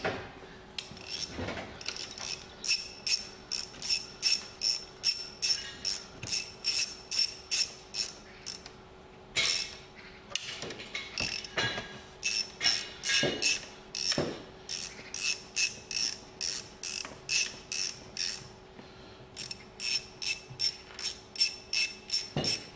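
13mm bolts on a car starter motor being run in with a ratchet, bursts of rapid clicking ratchet strokes in a regular rhythm with short pauses and occasional knocks, close and clear.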